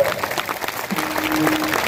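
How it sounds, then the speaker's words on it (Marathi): Loud applause from a crowd at a Marathi kirtan gathering, dense continuous clapping with a faint voice underneath. "टाळी जोरात वाजवा, जोरात जोरात."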